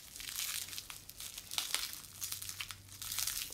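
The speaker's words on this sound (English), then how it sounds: "Pull it out of that saran wrap." Plastic saran wrap crinkles and rustles continuously as it is pulled off an Axis Scientific anatomical heart model, close and fairly quiet with no talking.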